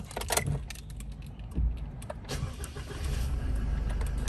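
An Isuzu Cab4 S 1.9 pickup is started nearby: keys jingle, the starter cranks briefly, then the diesel engine catches and settles into a steady idle rumble.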